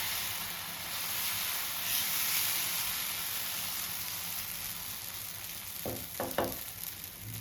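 Sprouted moong dal pesarattu frying on a hot pan gives a steady, bright sizzling hiss throughout, with a few short scraping or tapping sounds near the end.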